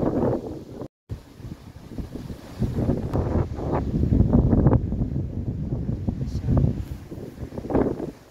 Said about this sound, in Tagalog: Marinig niyo yung pagaspas ng hangin